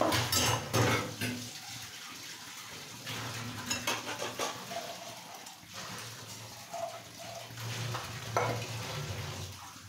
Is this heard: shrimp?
yes